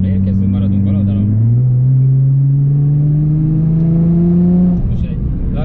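Nissan GT-R engine held at full throttle through a long corner at the Hungaroring, a loud steady drone rising gradually in pitch, with a short dip and shift partway through, under a driving instructor's talk.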